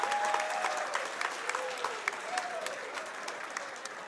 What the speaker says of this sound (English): how about a round of applause for both these warriors